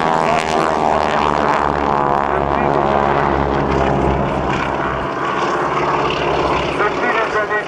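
A propeller-driven aerobatic airplane performs at an air show, its engine roaring loudly and continuously with a dense, droning tone that shifts slightly in pitch as it maneuvers.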